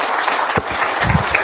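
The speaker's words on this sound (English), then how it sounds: "And give him a round of applause." Audience applause at a guild conference fills an afternoon session with a dense, steady burst of clapping from a seated crowd, loud and close throughout.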